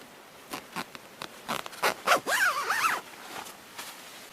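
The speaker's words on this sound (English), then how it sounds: "Zippers." Zippers on an REI Passage 2 backpacking tent are pulled in several short bursts, a few quick tugs followed by a longer rasping zip, close and clear with no talking.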